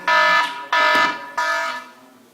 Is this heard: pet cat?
no